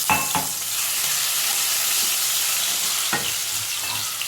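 Steady loud sizzling of green chilies and garlic frying in a pan, with a couple of stirring scrapes near the start and middle.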